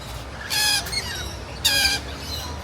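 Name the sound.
lorikeets squawking in walkthrough aviary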